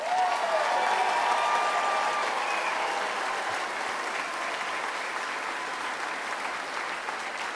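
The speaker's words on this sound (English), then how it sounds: "Please give my mother a round of applause." A large audience at a Hall of Fame induction ceremony applauds continuously, a dense wash of clapping that starts strong and tapers slightly while staying sustained to the end.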